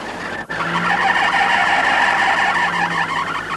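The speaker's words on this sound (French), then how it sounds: "il reconnaît le bruit du moteur" A car engine running steadily, loud and close with a broad roar, briefly cut off near the start before resuming evenly.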